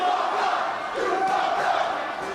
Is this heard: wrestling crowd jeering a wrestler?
yes